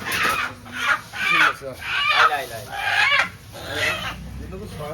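A hen clucks repeatedly at close range while being weighed on a scale, with short clucks and squawks coming in bursts over about five seconds.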